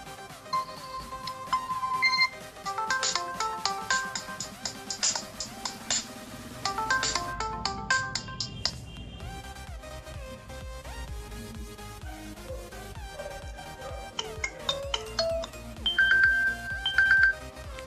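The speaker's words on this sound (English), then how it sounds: "so this was the ringtone option" Ringtone melody playing from a Samsung Gear S3 Frontier smartwatch, a bright chiming electronic tune with repeating bursts of tones, steady and close, with no voices over it.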